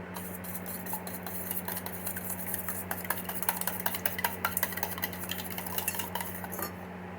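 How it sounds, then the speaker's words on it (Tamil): Eggs seasoned with pepper, cumin and salt are whisked in a bowl, producing rapid, steady clinking and tapping of a utensil against the dish over a constant low hum. "நம்ம முட்டையில் மிளகு ஜீரகம் ப்ளஸ் உப்பு போட்டு இந்த மாதிரி அடித்து எடுத்து வச்சுருக்கோம்."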